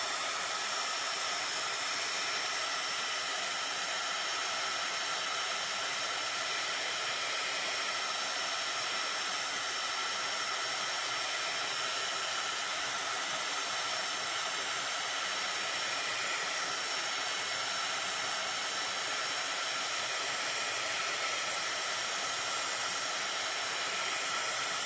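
A hair dryer blows steadily over acrylic paint, a constant airy whoosh at even loudness that stays close and unbroken for the whole stretch with no talking.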